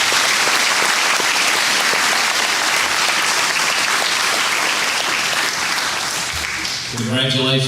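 A hall of fame induction audience applauds its inductees in a loud, dense, unbroken wash of clapping that eases slightly near the end as a voice begins speaking.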